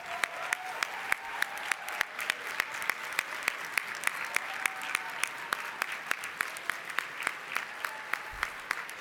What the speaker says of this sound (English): The teleprompter has moved on, but keep applauding these folks